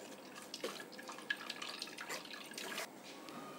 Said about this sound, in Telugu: దీని ఈ పాలు కొబ్బరి పాలు పోసుకొని ఫిల్టర్ చేసుకోవాలి